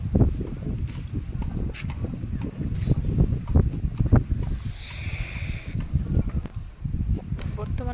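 Strong wind blowing around a new village house, a steady gusty rush under ongoing talk, with scattered thumps and footsteps mixed in.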